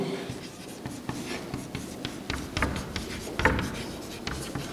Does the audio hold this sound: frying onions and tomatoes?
no